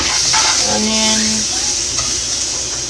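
Onion sizzling and being stirred in a pan while cooking a dinner of oxtails, a loud continuous frying hiss close up, with a voice briefly speaking over it.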